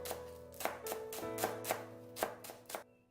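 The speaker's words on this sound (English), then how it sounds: "Chop green onion" Green onion being chopped on a board, about eight or nine crisp knife strikes in a fairly even rhythm, close and clean with nothing else heard.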